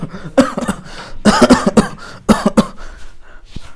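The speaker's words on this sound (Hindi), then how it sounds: "खांसी तो बेसी होगल बटे" A person coughs several times in harsh, close bursts, with a throat-clearing quality and short pauses between fits.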